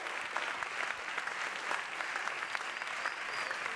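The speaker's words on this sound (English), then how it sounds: "So, please give us a big round of applause for Mr. Nick Fancher." Steady audience applause at a photography event fills the space, a dense wash of many hands clapping at moderate distance with a faint crowd murmur and no talk.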